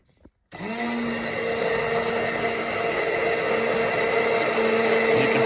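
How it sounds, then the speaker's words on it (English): An immersion blender switches on with a brief click and then whirs steadily and loudly while mixing olive oil mayonnaise in a jar, its motor tone holding nearly constant. "What's nice with the immersion blender is you actually can just add it all together in the jar and blend it"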